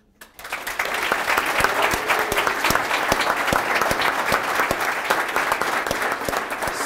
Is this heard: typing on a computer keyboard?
no